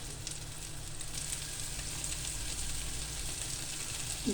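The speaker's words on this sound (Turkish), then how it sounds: "Köftelerim de kızarıyor arkadaşlar." Köfte meatballs frying in a pan, a close, steady sizzle of hot oil that hisses evenly and continuously without talk, with a faint clink near the end.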